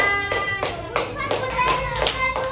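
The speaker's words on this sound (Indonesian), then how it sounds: "Tepuk tangan." Children in a classroom clap their hands in several short bursts of claps with brief pauses between them, close by, while speech and children's voices carry over the top.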